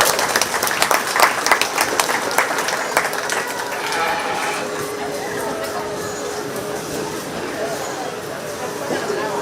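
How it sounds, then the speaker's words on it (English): A county fair crowd at a 4-H and FFA sheep show applauds the young exhibitors, dense clapping loud at first and then thinning into steady background noise and murmuring. "Let's give these kids a big round of applause."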